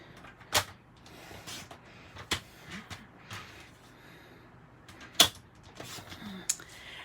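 Paper being cut to size for a gift box: a handful of sharp, isolated snaps and clicks spaced several seconds apart, quiet and close, with soft handling rustle between them.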